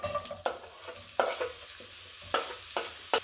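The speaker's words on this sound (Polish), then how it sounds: "Na początku wrzucamy naszą cebulę" Chopped onion sizzles in hot olive oil in a frying pan, a steady crackling hiss broken by several sharp scraping stirs, close and distinct.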